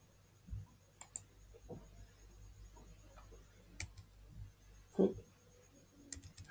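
Computer keyboard being typed on at a quiet desk, with scattered sharp key clicks in uneven bursts and pauses over faint background hum.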